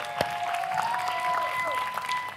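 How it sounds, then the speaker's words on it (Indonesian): Studio audience applause on a comedy variety show, scattered clapping with a few sharp claps up front and a faint tone running underneath, moderately loud. "Kak Ato, luar biasa, tepuk tangan dulu dong untuk Kak Ato."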